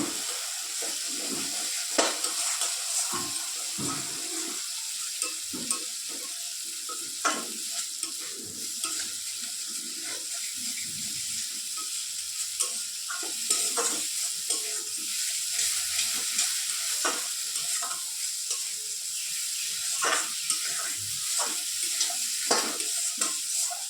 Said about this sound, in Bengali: মশলাটাকে ভেজে নিই, ভালো করে কষিয়ে নিই।